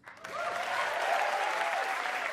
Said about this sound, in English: Clap if you use Craigslist.